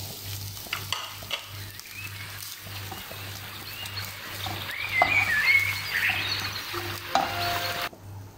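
Brown pasta being stirred in a frying pan with prawns, a soft sizzle under irregular scraping and stirring strokes, with a few clinks near the end.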